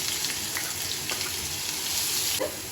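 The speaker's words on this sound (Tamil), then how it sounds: "உளுத்தம்பருப்பு கடுகு பொரியட்டும்." Urad dal and mustard seeds in hot oil, a dense hissing sizzle with faint crackles and a soft tap near the end, steady and close.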